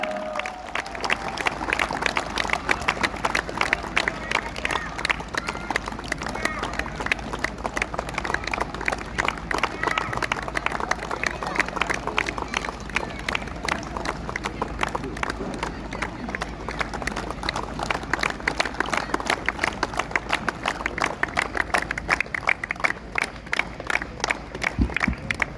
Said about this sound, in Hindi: जोरदार तालियां हो जाए जुम्मू कॉम्बैट FC बैनर के लिए।